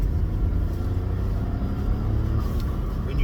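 A Smart 453 with a 0.9-litre turbo engine, manual gearbox and fitted blow-off valve is driven along, a continuous loud low engine and road rumble inside the cabin.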